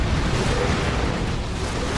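Explosion in the Dawn of War 2 real-time strategy game during a 3v3 match, a dense, steady low rumble with broad noise filling the whole two seconds, no distinct blast onset.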